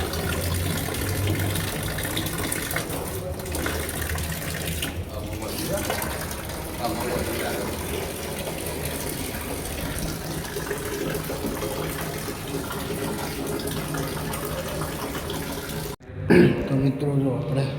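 Water gushes under pressure from a pipe at a repair job, a loud steady rushing flow that runs continuously before cutting off abruptly near the end, with voices talking over it.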